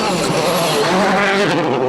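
A World Rally Championship car roars through a stage at Rally de Portugal 2009, its engine loud and close with a sweeping, rising pitch.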